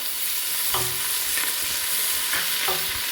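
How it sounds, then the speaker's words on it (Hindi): Crushed ginger is stirred into a hot pan of frying mutton for biryani, giving a steady loud sizzle with a few scraping strokes of the spoon. "तो इस टाइम पे मैं डालूँगी ये अदरक। इसको मैंने हल्का हल्का सा कर लिया है क्रश।"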